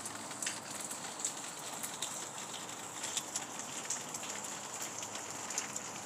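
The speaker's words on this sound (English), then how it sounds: "as the rain continues to fall," Steady rain falls outdoors, a dense hiss of drops pattering on surfaces with scattered sharper drips, moderately loud and continuous, with no voices.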